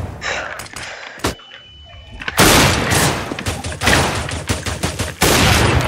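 Rapid bursts of gunfire crackle and boom in a chaotic Counter-Strike: Global Offensive soundscape, dense and loud, with repeated shots layered over each other.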